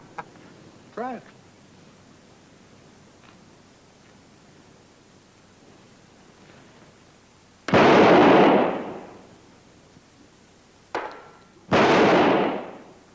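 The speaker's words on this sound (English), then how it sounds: "what's a 4th of July without fireworks? Hey, let me try one." Fourth of July firecrackers set off in an old western TV drama burst loudly in two long, rough, crackling blasts, separated by a short sharp pop, after a quiet stretch.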